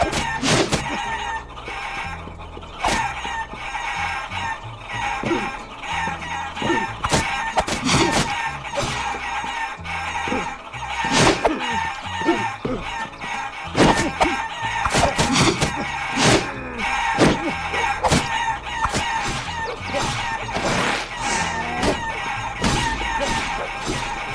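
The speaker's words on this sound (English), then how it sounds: "Casa de Pollo? Chickens!" Chickens clucking in the video game Guacamelee, repeated clucks and squawks with sharp percussive hits and crowing over a steady game music bed, moderately loud.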